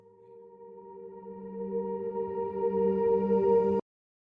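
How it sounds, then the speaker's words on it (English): A reversed piano chord swells up from nothing, growing louder with a smeared reverb wash, then cuts off abruptly into silence, leading into an electronic music track. "this little reverse piano thing, which I just rendered out and reversed with reverb"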